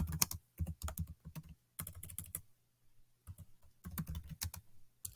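Bursts of typing on a computer keyboard, quick clicky keystrokes in three clusters separated by short pauses, close and moderately loud, with a low steady hum beneath and no talking.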